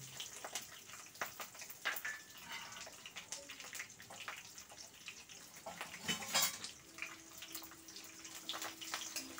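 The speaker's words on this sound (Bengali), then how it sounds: "দুটো মিশিয়ে খুব ভালো করে নাড়তে থাকবো যতক্ষণ না রঙটা চেঞ্জ হয়ে আসে" Chopped onion and curry leaves stirred in a pan, giving a busy patter of spoon scrapes and light clatter against the metal with a faint sizzle underneath, steady and close, with no talking.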